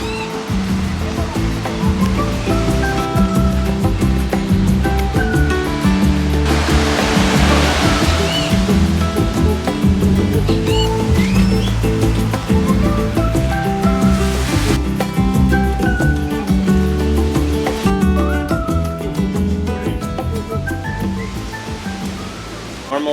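Ocean surf at Puerto Escondido beach rushes in a constant loud wash, with swells of breaking water rising and falling beneath steady background music.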